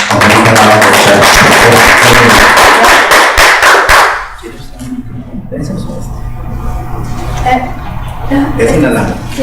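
An audience at a medical and nursing meeting claps for Dr. Margarita Nava, a dense burst of applause for about four seconds that cuts off, followed by quieter voices talking in the room.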